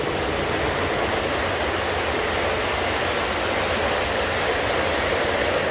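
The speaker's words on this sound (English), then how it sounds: "Here comes a cargo train hauling freight." A model cargo train hauling freight runs past on a layout at a museum in Lubbock, Texas, giving a steady rumbling roll with faint wheel clatter and squeal at constant loudness throughout.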